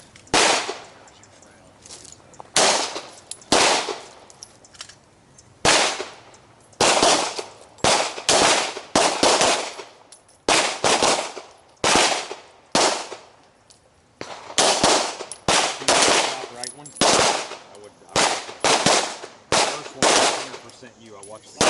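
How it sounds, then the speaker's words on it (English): Pistol shots crack one after another at an outdoor shooting practice with a red-dot-equipped handgun, loud and sharp in uneven strings and pairs with brief pauses between them. "gently applying pressure till the gun goes bang"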